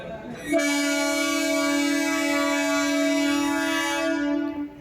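The horn of the Puri–Bhubaneswar–Daspalla special passenger train arriving at Daspalla railway station blares one long, loud, steady blast close by, holding for several seconds before fading.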